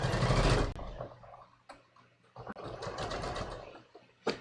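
A sewing machine stitches a t-shirt quilt, running in a loud opening burst and then in shorter, uneven runs with brief pauses and a few sharp clicks, close by with no talking.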